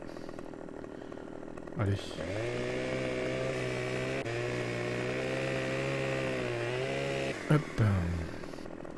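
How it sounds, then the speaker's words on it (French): A video game chainsaw cutting a log in Farming Simulator 15 drones steadily at high revs for several seconds, starting up and cutting off sharply, with a man's brief exclamations at either end. "Allez, hop, un coup de tronçonneuse"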